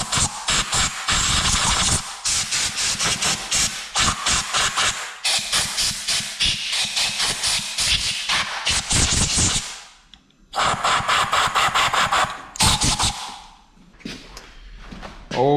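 Compressed air blasts out a flooded Poulan Pro chainsaw in long loud hissing bursts, close up, with a couple of short gaps and a stuttering rattle between blasts.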